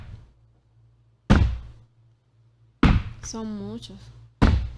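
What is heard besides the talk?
knocking on a table with the hand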